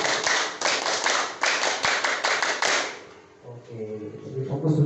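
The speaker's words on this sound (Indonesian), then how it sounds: "Satu kali tepuk pramuka." A group of students does a single round of the scout clap (tepuk pramuka), a loud patterned burst of unison hand claps that stops abruptly, followed by quieter room noise and faint voices.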